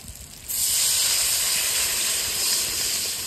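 Water poured into hot oil and spice paste for a brinjal and egg curry, a loud, steady hissing sizzle bursting in suddenly and holding close and strong to the end, with no talking.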